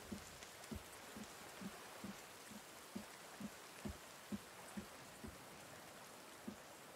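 Rain falling in the survival video game The Forest, a steady soft hiss with faint irregular drip-like taps throughout, quiet and without talk.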